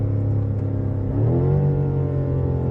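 A BMW M5 safety car's engine climbs steadily in pitch as it accelerates, a smooth, loud, sustained cabin-heard drone with rising harmonics and no talking.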